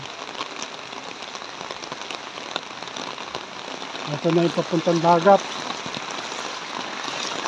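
Heavy typhoon rain pours steadily over a flooded street in Navotas City, a dense constant hiss of drops on surfaces, with people speaking briefly partway through.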